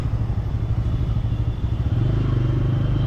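A Bajaj Pulsar N160 motorcycle creeps through a jammed city street, its engine a close, steady low rumble with light clattering.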